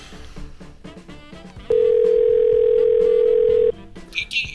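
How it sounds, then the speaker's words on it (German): A telephone dial tone sounds as a call is placed. It is a loud, steady single tone lasting about two seconds, with voices speaking just before and after it. "Ich rufe jetzt erstmal Sabine an"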